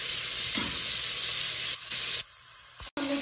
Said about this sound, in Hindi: फिर इसकी करते हैं भुनाई।